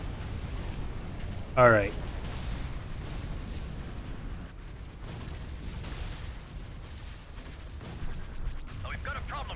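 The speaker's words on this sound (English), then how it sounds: "Cannons charged." A booming cannon blast sounds early in a sci-fi battle in the Republic at War 1.2 mod for the Empire at War strategy game. Softer rumbling weapon fire continues around it, under steady talk from a player.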